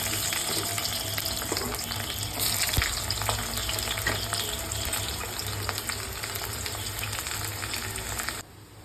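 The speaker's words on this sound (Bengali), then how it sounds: "পেঁয়াজটা আমার লাল করে ভাজা হয়ে গেছে," Onions and chili frying in oil in a kadai, a continuous close sizzle with occasional stirring scrapes, steady and fairly loud, ending abruptly near the end.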